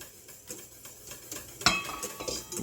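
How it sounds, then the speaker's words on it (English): A whisk scrapes and taps a pan while beating an egg yolk and butter sauce, with soft rhythmic clinks growing into a louder metallic rattle near the end, close and quiet. "it's not because I'm whisking it"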